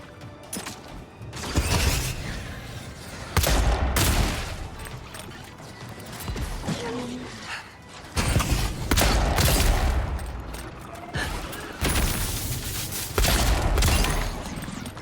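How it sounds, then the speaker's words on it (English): Gunfire in the fantasy game Avowed comes in repeated loud volleys of rapid shots, separated by short lulls and mixed with mechanical creaks and clatter. "Who's shooting at me?"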